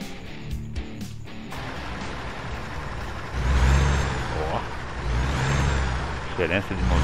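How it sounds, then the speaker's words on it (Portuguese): A heavy truck engine in Euro Truck Simulator 2 rumbles and builds in intensity, with a hiss of air brakes and some clatter, recorded close with a low droning tone. "O barulho do caminhão tá baixo."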